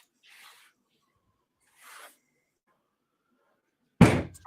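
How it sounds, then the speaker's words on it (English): Objects are set down on a desk, including a phone with a kickstand. Two soft, brief rustling scrapes are followed by a single loud, close slam near the end, with no talking. "Why do you keep slamming stuff?"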